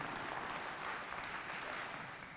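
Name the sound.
audience applause for the youth of Walia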